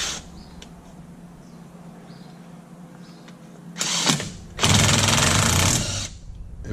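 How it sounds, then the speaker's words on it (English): An impact wrench removes the steering wheel nut on a Polaris RZR side-by-side, with a short buzzing burst followed by a longer loud rattling hammer lasting over a second, close up after a quiet workshop lull. "Just use an impact wrench."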